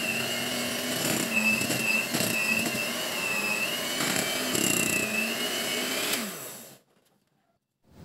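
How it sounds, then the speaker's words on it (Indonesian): An electric mixer on its lowest speed beating batter for a steamed zebra sponge cake gives a steady whining hum with small wobbles in pitch, then cuts off abruptly near the end, leaving near silence. "Mixer kembali sebentar saja, cukup sampai tercampur merata dengan kecepatan paling rendah."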